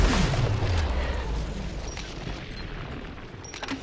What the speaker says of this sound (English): You're blowing yourself up.